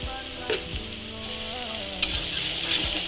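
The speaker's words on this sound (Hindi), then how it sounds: "मसालों को अच्छी तरह से भून लेंगे।" Spices including coriander powder, black pepper and Kashmiri red chilli powder sizzle and fry steadily in a pan for a potato curry, with occasional stirring scrapes and a louder spatter near the middle, no talking.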